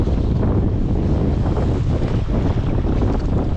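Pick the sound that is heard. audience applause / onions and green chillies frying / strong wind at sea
strong wind at sea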